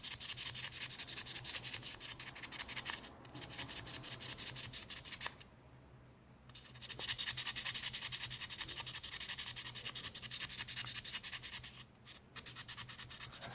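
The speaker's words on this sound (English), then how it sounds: "And do the sandpaper like this, and you can get it these areas as well." Sandpaper scrubbing surface rust off a stainless steel knife blade, a close, steady broadband rubbing that runs nearly continuously with brief pauses around the middle and near the end.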